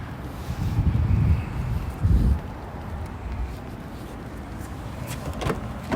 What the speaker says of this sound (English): That is a power lift gate, which I want to be able to just demonstrate